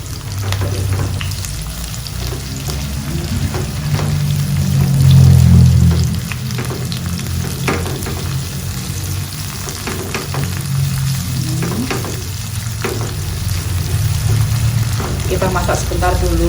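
Red and green chilies sizzle steadily in hot oil with shallots and garlic, a loud continuous fry with occasional stirring scrapes and a brief swell midway.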